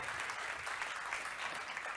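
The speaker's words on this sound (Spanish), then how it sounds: "Denle el aplauso al Señor." A church congregation claps steadily, a dense, even patter of applause filling the short moment with no pauses.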